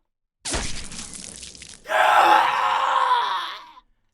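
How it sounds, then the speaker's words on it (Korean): A wounded vampire who has lost an arm sits on the floor and screams in a Korean audio drama, with a short raw cry followed by a louder, sustained anguished scream that fades out. "팔을 잃은 흡혈귀는 바닥에 주저앉아서 비명을 지르고 있었다."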